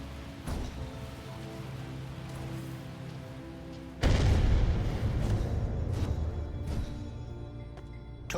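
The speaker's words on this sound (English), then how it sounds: "I heard a huge explosion ahead" A loud blast bursts in during the Light Fall video game, a sudden broadband boom at the midpoint over a steady low ambient drone, followed by rumbling debris-like noise and a few sharp cracks before it settles.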